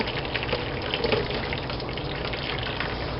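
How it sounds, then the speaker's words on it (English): Fat being drained from cooked 80% ground beef with onions into a kitchen sink, a steady close pouring and splashing gush of liquid that runs continuously throughout. "I always drain the fat off"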